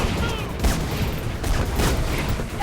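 Enemy gunfire in a video game: dense, loud bursts of shots and booms that fill the whole stretch without pause.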